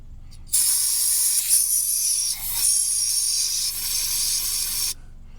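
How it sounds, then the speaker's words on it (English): Carburetor cleaner sprays in one long, loud, close hiss of about four seconds into the bowl of a carburetor that sat unused for over 25 years, then cuts off. "So we can just fill the bowl up with some carburetor cleaner."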